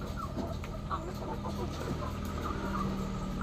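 A lame chicken, unable to move its leg, clucks in a few soft, scattered calls over a steady low background hum, fairly close and moderately quiet.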